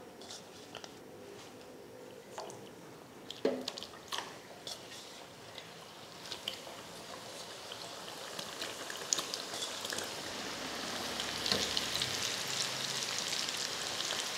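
Namak pare deep-frying in hot oil over a medium flame, a crackling bubbling fry with scattered sharp pops early on that builds into a denser, louder sizzle toward the end.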